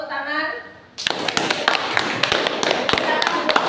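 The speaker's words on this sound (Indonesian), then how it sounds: "terima kasih untuk kelompoknya Agung, tepuk tangan" Classroom of elementary school pupils bursting into applause for a student group, a dense run of sharp claps starting abruptly and continuing steadily, close and lively.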